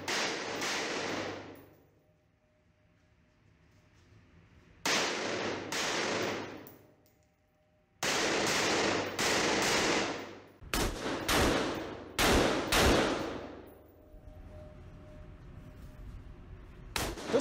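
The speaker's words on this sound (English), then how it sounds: "Every time I bring it up, I'm gonna put two rounds where they need to be." Rifle shots crack out in a night shooting drill, loud sharp reports coming singly and in quick pairs separated by pauses of quiet, each followed by a brief ringing decay outdoors.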